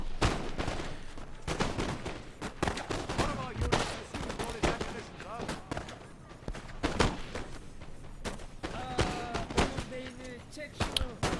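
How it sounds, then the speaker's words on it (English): Musket volleys crackle through a Napoleon Total War battle between Russia and the Ottomans, with dense, loud overlapping gunfire bursts running throughout and a voice talking in the mix. "I got the first shots off, but he got a really good second volley"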